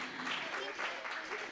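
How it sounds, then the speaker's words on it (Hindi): Audience applause for students at a poetry competition event, a brief burst of clapping in a hall with a voice speaking over it. "सामईन से इल्तिमास है कि तालियां कम से कम तलबा की हौसला"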